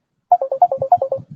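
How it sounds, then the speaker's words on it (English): A phone ringtone plays a quick run of about nine bright electronic beeps in a bouncing melodic pattern, loud and close, then cuts off, with no talking over it. "one of my phone is ringing"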